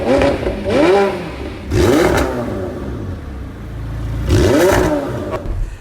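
A McLaren 720S with a 4-litre twin-turbo V8 is revved three times, each sharp rise and fall in pitch loud and close, with a steady idle rumbling in the gaps and no talking.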